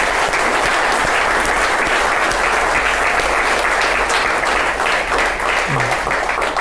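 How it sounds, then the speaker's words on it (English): Loud, dense applause from an audience at an annual achievements awards event, a continuous roar of many hands clapping without letup. "So a good round of applause for"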